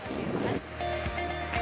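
Waves wash onto a natural beach in Pesawaran in a brief, soft surge of surf mixed with light wind, fading slightly midway.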